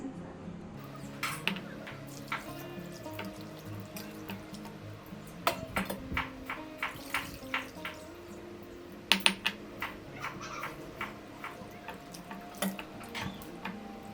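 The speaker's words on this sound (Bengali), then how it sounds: "এই জলটা ফেলে দিচ্ছি" Water sloshing and draining away after washing chopped figs in salt-and-turmeric water, with scattered clinks of a bowl or vessel over a steady wet background.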